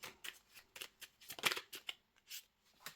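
Tarot cards are handled and drawn from a deck, a quick series of close, crisp papery flicks and slides with short pauses between them.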